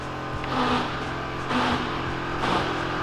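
Lowered VW Saveiro pickup driving, a steady engine drone with three brief swells of revving roughly a second apart, loud and close with no talk over it.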